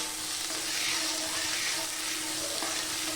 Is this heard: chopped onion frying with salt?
yes